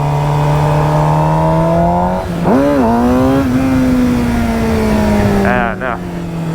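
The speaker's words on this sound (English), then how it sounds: "Okay, I'm gonna try a wheelie right here." Vehicle engine revving hard with rising harmonic pitch, a brief dip and surge near the middle as the rider tries to lift the front wheel into a wheelie, steady and close throughout.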